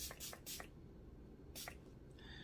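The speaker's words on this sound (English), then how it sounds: "go back in with the toner and spray a little lighter mist on my face" Short hissing spritzes of a facial toner spray bottle misting the face, a quick double puff, a pause, then another pair, close and soft in a quiet room.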